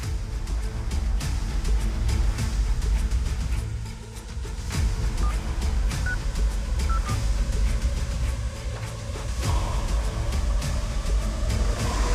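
Telephone dialed in a Telugu movie forest scene: a few short tonal beeps in the middle, faint beneath a loud, steady rumbling background.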